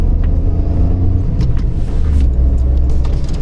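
A car drives along a mountain road toward Badrinath in Uttarakhand, its steady low engine rumble and road noise continuous and close throughout, with no talk.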